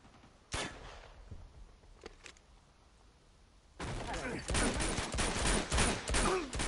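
Gunfire shoots a lock open in Uncharted 2: Among Thieves. One sharp shot comes first, then a few faint knocks, and a dense loud burst of shots and impacts sounds at the end.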